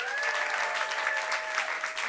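Steady audience applause fills a climate week panel event on the UN and the non-profit sector, a continuous dense wash of many hands clapping at moderate volume throughout.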